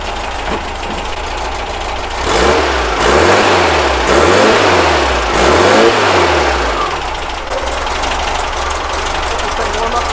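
A VW Baja Bug engine warming up: a steady air-cooled idle swells into three rhythmic revs and falls back, loud and close, with a rough, rattling tone throughout.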